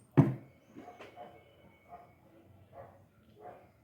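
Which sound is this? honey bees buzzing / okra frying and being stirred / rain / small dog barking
small dog barking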